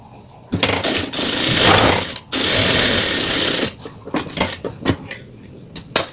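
A sewing machine stitches a cotton fabric band for a turban headband in two long loud runs, then gives a few short bursts and clicks.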